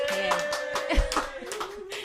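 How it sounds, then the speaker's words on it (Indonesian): A small podcast audience claps sparsely after the host invites it, with scattered individual claps under a steady tonal hum and some nearby voice sounds. "Boleh tepuk tangan loh sekarang"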